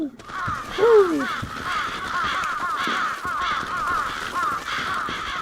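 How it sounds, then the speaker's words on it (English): Noisy crows caw repeatedly in the Bloodstained: Ritual of the Night video game, a steady, fairly close chorus of harsh calls with one louder rising caw near the start. "Noisy birds."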